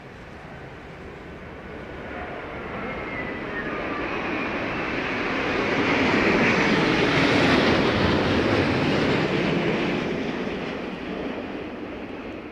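An airliner lands at London Heathrow Airport during Storm Darragh, a broad, steady engine roar mixed with gusting wind that swells to a peak midway and then eases, heard from a distance without talk.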